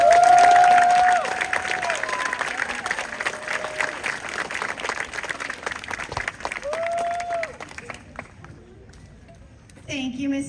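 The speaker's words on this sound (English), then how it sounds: "let's give Mrs. Gwaltney one more round of applause" An audience at an elementary school graduation applauds, dense clapping that starts loud and near, then thins and fades over several seconds before a brief renewed burst, with faint crowd noise.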